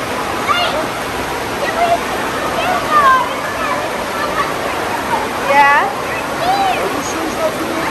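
Steady rushing, splashing water from the wave pool at Great Wolf Lodge in Colorado Springs, a continuous wash of surf-like noise with children's squeals and voices chattering over it throughout.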